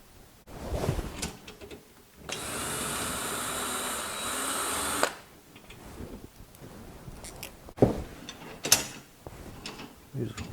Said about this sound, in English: Go ahead and take these guys out. The 4 mounting bolts for the saw.